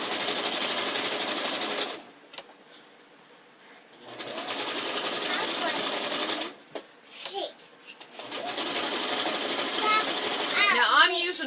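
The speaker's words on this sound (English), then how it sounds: "I'm just going to go ahead and use the zigzag that's on it. And I'm just going to hem right over top of where I hemmed it at." A domestic sewing machine zigzag-stitches a hem in three loud running bursts separated by pauses, with a voice chattering between and over the stitching.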